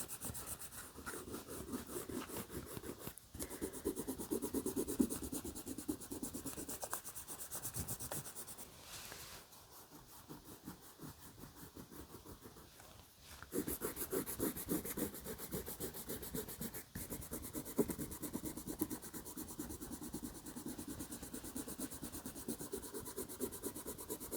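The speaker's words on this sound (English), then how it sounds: "So I'm going to start erasing all of my pencil marks." An eraser rubs steadily across paper to clear pencil lines from a wolf drawing, giving close, continuous scratchy scrubbing in long bursts with a few brief pauses between strokes.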